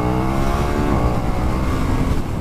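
KTM 1290 Super Duke R motorcycle from 2020 accelerating hard to overtake: a loud, close engine roar with rising pitch, steady and continuous with no break.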